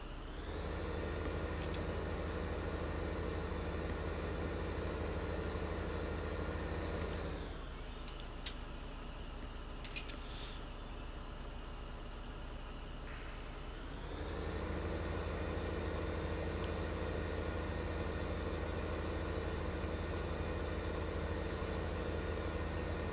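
A tractor engine idles in Farming Simulator 15 with a steady, droning rumble. The drone dips to a quieter, rougher tone for several seconds midway, then returns to the full idle.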